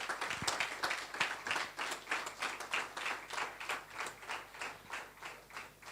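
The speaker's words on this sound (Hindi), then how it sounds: "तालीम से हम वेलकम करेंगे जी" A church congregation claps in a steady rhythm to welcome a guest preacher, the applause faint and distant throughout.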